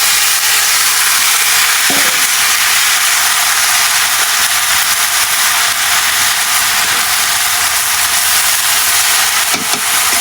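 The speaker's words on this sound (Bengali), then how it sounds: "ভাপ দিয়ে রাখছি, শাকটা দিয়ে" Greens steaming in a pot give off a loud, continuous broadband hiss of steam that holds steady throughout, with a few faint clinks underneath and no talking.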